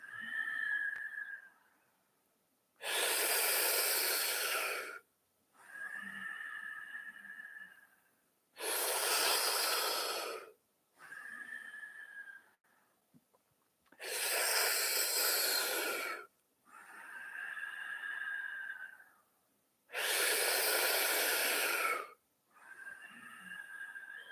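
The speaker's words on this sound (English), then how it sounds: "Inhaling through a rounded mouth and then exhaling through the nose." Kundalini yoga breathwork: four loud, forceful breathy exhalations through the nose, each lasting about two seconds, alternating with softer rounded-mouth inhalations that carry a faint whistling tone, in a steady slow rhythm close to the mic.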